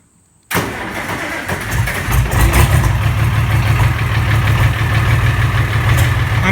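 A Farmall 560 tractor's D282 diesel engine cranks after glowing and catches almost at once. It settles into a loud, steady, rumbling idle close by, with no talking.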